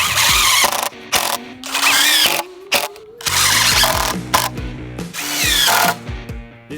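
A cordless power drill drives screws into Simpson Strong-Tie connectors while building a deck, repeated loud whirring bursts with ratcheting clutch clicks and brief pauses between screws.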